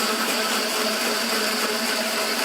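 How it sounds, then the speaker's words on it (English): A kitchen blender whirring while lemon vinaigrette is made, oil slowly streamed in: a loud steady motor whine that runs without pause, alone and unchanging. "I'll turn this blender back on."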